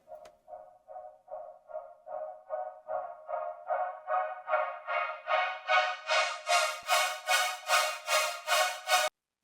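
Dubstep synth stabs repeat in a steady pulse, about twenty short hits that start faint and grow brighter and louder as a filter opens, heard alone with no talking.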